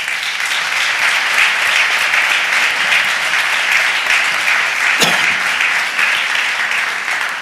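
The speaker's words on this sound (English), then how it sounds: "And I think he deserves a round of applause." An audience in the Philadelphia City Council chamber applauds during the mayor's budget address, a dense, steady wash of clapping that holds evenly for several seconds.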